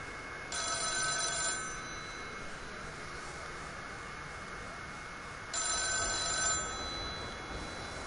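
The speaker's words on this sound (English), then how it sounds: "There's a phone ringing. Where's the phone?" An old telephone bell rings in the video game The Town of Light, two bursts of about a second each separated by a long pause, heard over a low, steady ambient drone.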